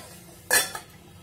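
A lid set back onto a pot of boiling kadha, an Ayurvedic herbal decoction, gives a single sharp metallic clatter with a short ringing tail, close and clear over quiet background.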